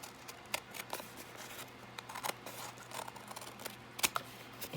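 Scissors cutting paper at close range, a series of short, crisp snips spaced irregularly against a quiet background.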